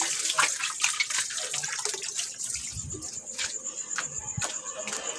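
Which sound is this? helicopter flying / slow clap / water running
water running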